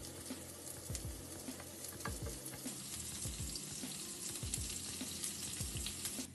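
Onion frying with meat in hot oil in a pan, a constant close sizzle and crackle with a few soft stirring scrapes, no talk.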